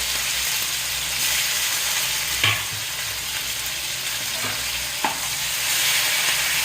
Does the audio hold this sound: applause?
no